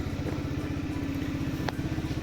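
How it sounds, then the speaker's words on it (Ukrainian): A small scooter engine idles steadily with a rapid, even putter after a kick start, its battery too weak to start it, close by, with one brief click partway through. "Скутер працює."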